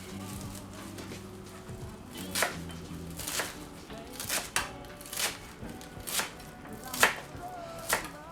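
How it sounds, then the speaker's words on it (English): A knife chops roughly through fresh herbs on a cutting board for a falafel wrap, giving a series of sharp, close taps, irregular at first and then settling into a steady rhythm, with no talking. "chop the herbs"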